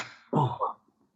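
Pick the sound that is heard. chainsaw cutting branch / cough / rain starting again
cough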